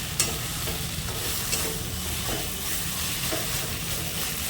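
Poppy seed paste sizzles steadily in a pan while a spatula stirs and scrapes it now and then, with a continuous close frying hiss and no voices.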